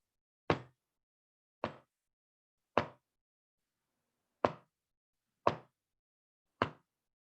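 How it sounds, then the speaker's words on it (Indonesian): Soft knocking on a door, six isolated dull taps spaced about a second apart, each short and clear against silence. "Beberapa saat kemudian datanglah juga suara ketukan lagi. Ini lebih lembut."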